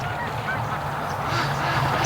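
Canada geese honk in a loose, continuous chorus, somewhat distant and overhead, blending with steady outdoor background noise by a lake.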